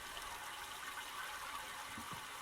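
Water flows and gushes steadily through pipes in the Myst video game's Channel Wood, a continuous hiss with a couple of faint low knocks near the end.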